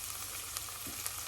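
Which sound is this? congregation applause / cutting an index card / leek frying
leek frying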